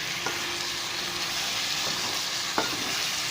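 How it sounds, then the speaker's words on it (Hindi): Potatoes fry in a pan with tomatoes just added, a dense close sizzle with a few light scrapes and taps of a stirring utensil. "और जितनी देर में टमाटर नरम होंगे उतने आलू और अच्छे से भून जाएंगे।"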